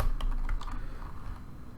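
Computer keyboard typing up close, several quick keystrokes clattering in an uneven burst, then quieter taps, with no talking.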